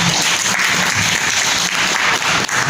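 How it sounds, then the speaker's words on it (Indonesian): Sustained, loud applause from an audience at a tourism workforce competency certification event in Southeast Sulawesi, dense and steady throughout with no speech over it. "tepuk tangan dulu"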